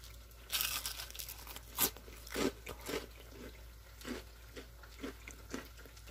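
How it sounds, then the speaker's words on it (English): Crisp crunches from biting into a fried cod fritter (bacalaito), several loud bites and chews spaced apart, close up in a quiet room. "Want to hear the crunch?"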